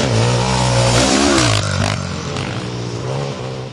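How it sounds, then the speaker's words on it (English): A 2006 Honda XR650R dirt bike engine revs hard under throttle, its loud rising roar climbing then easing off, with some clattering from the ride. "Drift around a corner, whack the throttle, and the XR leaves its competitors in the dust."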